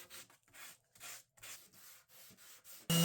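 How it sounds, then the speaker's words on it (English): Repeated hand sanding on wooden sign letters, rhythmic back-and-forth scratchy strokes close up, ending with a brief louder burst. "I still had to do a lot of sanding by hand"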